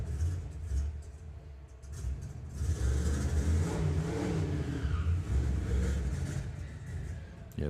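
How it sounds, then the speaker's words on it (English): A drag racing car doing a tyre-cleaning burnout in the burnout box at Santa Pod Raceway, heard as a steady, loud engine roar and rumble that swells and holds for several seconds with no voices. "that's only a tyre cleaning burnout, that one"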